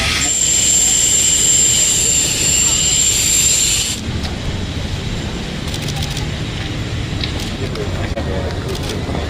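Ship engine room machinery roars with a loud, steady mechanical drone, a high whine over the first four seconds then a broadband rumble that continues throughout.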